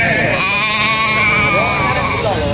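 Gibas sheep at a busy livestock market in Pasar Legi, Durenan, Trenggalek, bleating loudly and continuously at close range, with overlapping calls from several animals and market chatter underneath.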